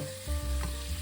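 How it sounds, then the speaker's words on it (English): Chicken meat stir-fried in a saucepan, a close bright sizzle with low thumping spatula stirs and a short scrape in the middle, with a steady hum underneath. "Put the meat in and stir."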